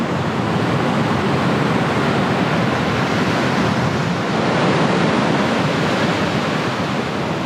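A waterfall pours down beside a beach on Sydney Harbour in Australia, giving a loud, constant, close rushing roar of water with no break and no talking.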